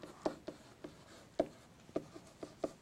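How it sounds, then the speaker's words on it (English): A pen sketches a graph on paper: a quiet, close series of quick scratchy strokes and taps in an irregular rhythm, with no talk. "I'm going to sketch this one"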